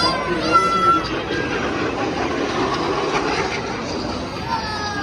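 L-39 Albatross military jet trainer flying at an airshow, a steady loud jet roar with a high whine held for the whole stretch, with a voice talking over it.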